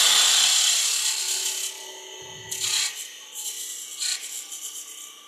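Woodturning tool cutting a straight tenon into a piece on a lathe, a harsh scraping rasp that starts loud and eases into a steady whir, with a few sharper catches of the cut toward the end.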